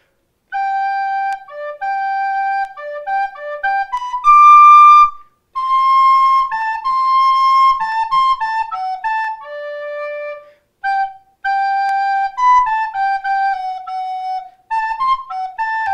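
A recorder plays a slow melodic passage from Mozart's Eine Kleine Nachtmusik, clear solo notes in phrases separated by brief pauses, close and moderately loud with no talking.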